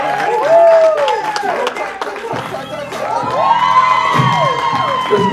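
An audience cheers, whoops and claps at an anti-bullying and cyberspace safety presentation, with high excited voices shouting over steady clapping that swells again partway through the burst.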